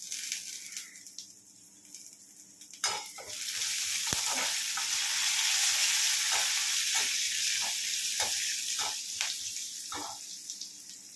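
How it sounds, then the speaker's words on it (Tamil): Coconut and curry leaves sauté in a hot pan for paruppu idli, a steady loud sizzle with scraping stirs and spatula taps throughout, no talking. "கொஞ்ச நேரம் வதக்கிட்டு இப்போது கருவேப்பிலை போட்டுக்கலாங்க"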